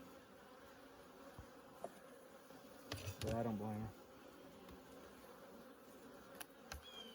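Honey bees buzz faintly around an open hive during an inspection, a low steady drone with a brief louder close pass as someone speaks quietly.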